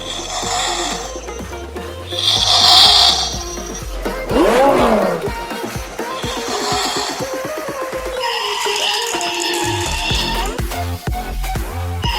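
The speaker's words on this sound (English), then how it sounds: "Touch the driver's window to hear a startup sound with lights on." A toy Lamborghini's electronic startup effect plays with a rumbling engine-like roar, chirpy tones and a rising whine, loud and close, continuous throughout.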